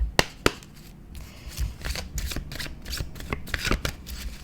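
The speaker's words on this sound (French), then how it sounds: "on va prendre d'autres cartes là au niveau de ton général" Tarot cards being shuffled by hand during a reading: a couple of sharp snaps at the start, then repeated soft riffling and sliding bursts, close and without talk.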